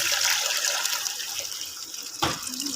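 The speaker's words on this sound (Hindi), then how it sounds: "तो उसमें जो है 6 गिलास पानी के ऐड कर रहा हूँ।" Water poured into a pot for matar pulao, a steady broad splashing hiss that runs throughout, with a brief heavier gush near the end.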